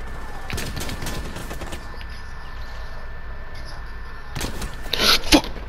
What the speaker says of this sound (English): I hear a pistol